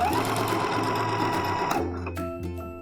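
A sewing machine runs steadily while stitching a coat lining, its fast, even mechanical hum close and loud before slowing and stopping near the end.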